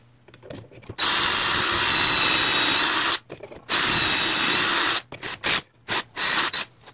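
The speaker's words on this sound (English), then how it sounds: "I want the holes drilled on this side, referencing against this with the stop block." A power drill bores dowel holes in wood, guided by a self-centering dowel jig against a stop block. Two long, loud, steady whining runs are followed by several short bursts close by.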